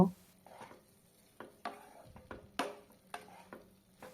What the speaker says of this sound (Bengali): মেশানো হয়ে গেলে দিয়ে দেব সেদ্ধ পাস্তা পাস্তাটাকে ভালো মতো করে সব কিছুর সাথে মিশিয়ে নেব